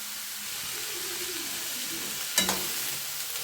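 Onions, mustard seeds, urad dal and grated coconut sizzle and crackle steadily in a hot pan, with a utensil scraping and stirring, including one sharp clank midway.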